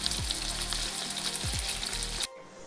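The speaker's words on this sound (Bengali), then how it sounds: "এগুলোকে ফ্রাই করে নিচ্ছি।" Chicken pieces frying in hot oil over a low flame, a steady bright sizzle with a few soft scraping stirs, ending abruptly.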